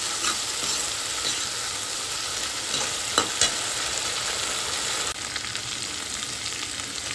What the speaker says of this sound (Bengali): দিয়ে মশলাটা ভালোভাবে মাছগুলির সাথে মিশিয়ে নিচ্ছি।